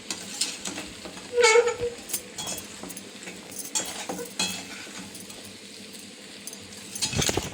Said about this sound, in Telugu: ఎలా కలపాలంటే ఇలా కలపాలి పాస్తాని బాగా.